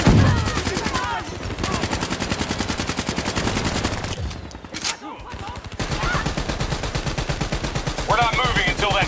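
Rapid machine-gun fire from a firefight against a turret in the Call of Duty Black Ops 3 campaign, loud continuous bursts with brief gaps and a heavy impact, with voices shouting in between.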